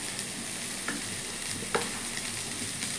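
Sweet corn with chili powder and salt stirred in a hot pan: a constant close sizzle with light scraping and clicking stirs.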